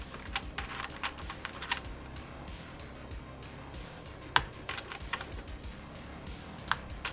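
Keys clack on a Mode Sonnet mechanical keyboard in an irregular, moderately quiet rhythm, with scattered sharper taps standing out close by.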